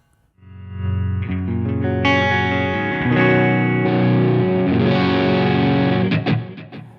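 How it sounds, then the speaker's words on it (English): An electric guitar is played through Line 6 Helix LT amp models, a Fender Deluxe and a Brit Plexi, each with reverb and delay. Loud, distorted sustained chords ring out alone for several seconds before cutting off. "I've got a Fender Deluxe model set on the top and a Brit Plexi model set on the bottom."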